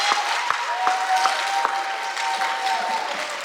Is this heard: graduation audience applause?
yes